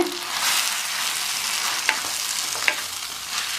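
Broad beans with sambar powder sautéing in a pan give a steady close sizzle, with occasional light scrapes or taps of a spoon and no voices.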